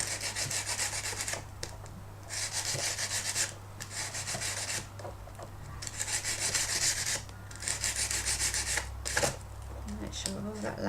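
Abrasive rubbing strips shiny lacquer off the points, repeating in rhythmic scratchy strokes of a second or two each, close and steady, with a low hum underneath and a person talking at times.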